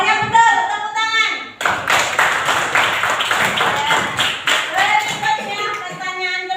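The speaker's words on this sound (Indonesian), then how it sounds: "tepuk tangan" Children and adults at a fruit guessing game clap together in a loud, dense burst lasting several seconds, close and energetic, with a sung voice heard before and after the clapping.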